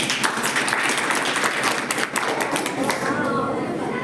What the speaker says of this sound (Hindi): लगा तो जोरदार ताली बजाइए